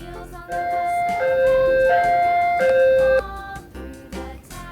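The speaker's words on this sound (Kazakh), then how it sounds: "Өрт сөндіру көлігі." A fire truck siren wails in a loud two-tone pattern, alternating high and low pitches several times over roughly two and a half seconds, with soft background music around it.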